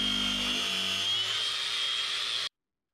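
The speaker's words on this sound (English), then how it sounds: "my freezer is frosting up. I'm gonna cut off the ice" A power tool whines at a steady high pitch as it cuts frost and ice off a frosted-up freezer, running continuously with a lower hum that fades early on, then stopping abruptly.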